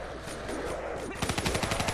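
Rapid automatic gunfire from a weapon in Black Ops 3 zombies mode, a steady burst of sharp cracks that turns louder and punchier halfway through, with game sounds around it.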